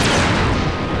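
Airstrike explosions in the video game Front Mission 4 roll on as a dense, continuous booming barrage, loud and sustained throughout with no pauses.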